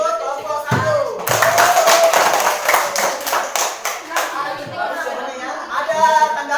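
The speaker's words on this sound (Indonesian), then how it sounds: "kita berikan dulu aplaus untuk kelompok 1" An audience applauds a group in a classroom coaching session with a burst of dense, fairly close clapping, while voices talk before and through it.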